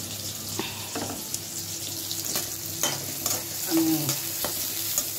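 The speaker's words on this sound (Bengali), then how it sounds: "পেঁয়াজটা ভালোভাবে ভেজে নেব।" Chopped onions sizzle steadily in a hot pan for a duck and coconut curry, with the occasional scrape and knock of stirring over the continuous frying hiss.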